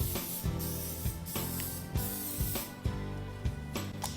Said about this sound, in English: now I'm gonna spray my griddle with a little bit of nonstick butter spray